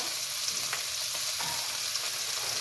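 Onion and green chilies drop into a hot mustard-seed tempering in oil, a close, steady hissing sizzle with a couple of soft stirring knocks, no speech.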